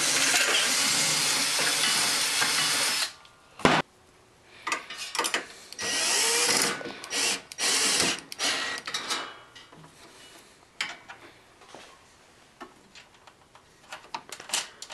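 Bolts and nylon lock nuts being fitted to the shroud of an MTD snow blower: a long stretch of loud, close hissing noise gives way to intermittent clicks, taps and short mechanical rattles of hand work, with no talk.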